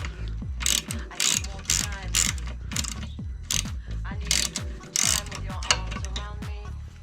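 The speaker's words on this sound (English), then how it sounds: "So you want a 30mm ratchet head, but we might need a longer arm." A ratchet with a 30mm head loosens a bolt on a Vespa PX scooter, giving a steady run of rapid, close pawl clicks in repeated bursts with short pauses between strokes.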